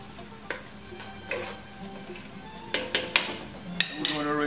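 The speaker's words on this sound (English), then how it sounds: "We're going to stir it again." A spoon stirs chopped cilantro and parsley in a pot, making light clinks and scrapes of utensil on metal that grow sharper toward the end, with a faint background hum.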